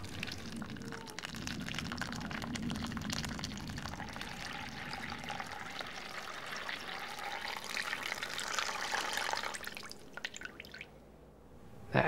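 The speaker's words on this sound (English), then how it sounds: "put some paper towels up on top of the screen, and then just pour your melted stuff down onto it" Melted beeswax poured onto paper towels laid over a screen and dripping through, a quiet continuous trickling and pattering that thins out and fades near the end.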